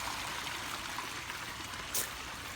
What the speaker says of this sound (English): the tide maker is dumping its entire contents into the pond now